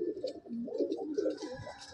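A Madrasi pigeon coos in low, throaty, bubbling phrases at close range inside a loft, with faint higher chirps around it and no talk.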